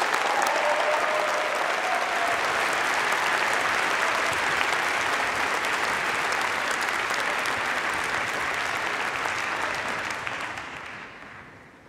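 A big audience claps steadily for several seconds at a university engineering graduation ceremony, the dense applause holding even before tapering off at the end.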